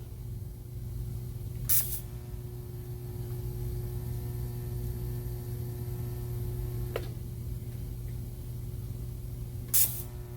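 TIG welding on steel rails gives a steady, faint electric hiss with a constant thin tone, framed by two short sharp bursts near the start and end.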